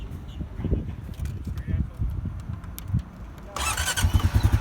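A 2020 Honda Rubicon ATV engine cranks and starts, catching into a steady, throbbing idle that grows louder and closer, with someone talking over the sound before it fires.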